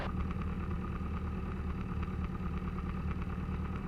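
A small airplane engine idles steadily during taxi checks and a brake check, a constant low droning rumble with a faint rhythmic pulse, fairly close and unchanging, with no talk.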